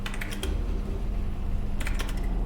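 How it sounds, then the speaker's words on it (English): Short bursts of quick key clicks on a computer keyboard inside the video game Soma, two clusters separated by a pause over a low steady ambient hum. "Why is this the only keyboard I can type on?"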